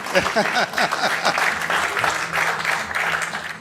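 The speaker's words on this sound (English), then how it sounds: "I think we should all applaud for." An audience applauds at an interview event in a steady, dense wash of clapping that lasts the whole stretch, with a voice briefly audible near the start.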